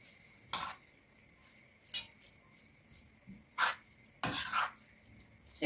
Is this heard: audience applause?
no